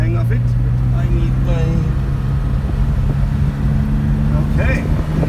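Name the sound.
1975 classic Porsche engine driving in first gear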